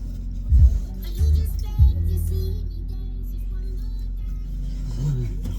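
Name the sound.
car engine running and driving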